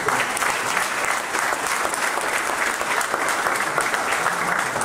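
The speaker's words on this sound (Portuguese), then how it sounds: "merece uma salva de palmas" A dense, loud round of applause fills a dinner-club lecture room, sustained and even throughout with no voices rising above it.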